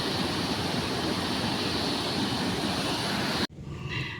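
Rushing water at a large river or waterfall on a joyride route, a loud steady roar filling the scene that cuts off abruptly near the end.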